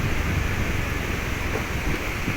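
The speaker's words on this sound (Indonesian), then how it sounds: "Ada sungai. Sungainya deras." Fast-flowing river rushing beneath a bridge on a mountain road near Padang, a steady broadband roar with no distinct events, fairly loud and continuous throughout.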